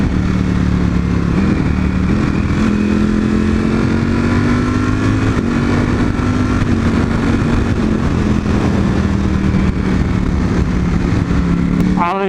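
V4 motorcycle engine being broken in while riding, a steady loud drone holding a fairly even pitch with slight rises, wind roar mixed in throughout.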